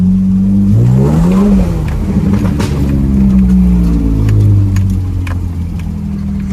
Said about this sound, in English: That lifter tick is really bad.